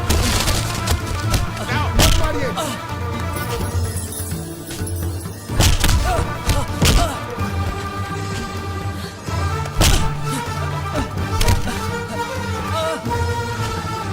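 Men beating someone in a Hindi comedy film fight scene: a string of loud, sharp punching thuds and slams land at irregular intervals over a music score, with shouting voices mixed in.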